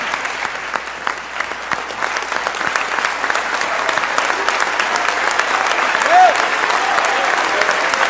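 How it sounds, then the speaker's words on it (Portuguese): A congregation rises for a standing ovation in church, dense continuous applause from a large crowd, steady and strong throughout, with a brief voice or cheer briefly audible in the mix. "Que tal aplaudir de pé?"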